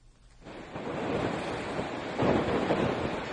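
Storm waves and strong wind from Typhoon Usagi batter the coast of Fujian province, a dense, rushing roar that swells up after a quiet start and stays loud and continuous.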